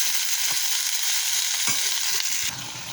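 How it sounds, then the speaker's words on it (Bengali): Onion and potato fry in a pan with a steady close hiss of sizzling oil, broken by a few soft scrapes and knocks of stirring, then the sizzle dips a little quieter near the end. "পেঁয়াজটা ভেজে নিচ্ছি।"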